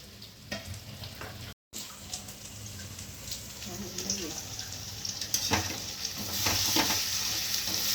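Lentil kachori filling roasting and stirred in a pan over a low flame, giving a steady soft sizzle with scraping stir sounds throughout, a brief dropout early on.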